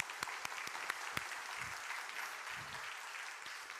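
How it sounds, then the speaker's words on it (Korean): Congregation applause during a Sunday church service, a soft, moderate clapping wash with a few sharp nearby claps standing out, heard briefly at a distance in a large room. "여러분 박수 한번 부탁합니다."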